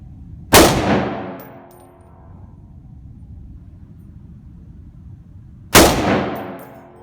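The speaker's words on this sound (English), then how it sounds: "we'll fire a couple of rounds on single and then give it a couple of bursts" A very light machine gun fires two sharp, loud reports several seconds apart, each with a ringing outdoor decay, and a low steady background hum runs between them.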